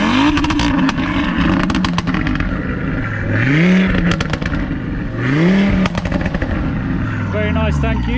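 A pre-facelift 2020 Audi RS3 with decat exhaust pipes and no OPF revs hard several times, loud rising blasts with crackles and pops between them, close by, as people talk over the noise.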